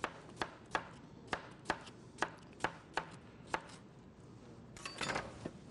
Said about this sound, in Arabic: نجيب الحبة الأخيرة، نشيل منها الحروف بتاعتها ونقطعها بنفس الطريقة